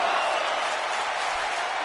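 A wrestling arena crowd in the WWE 2K19 video game cheers and roars continuously, a broad, steady wall of noise with no break.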